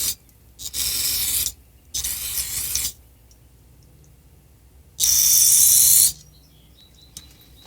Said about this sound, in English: when I go to blow it, it's low pressure air, about 20 pounds or so from your air compressor.